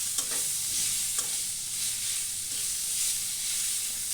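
Garlic paste and turmeric are stirred in a hot pan, a steady sizzling hiss with soft, intermittent scraping strokes close by and no talking.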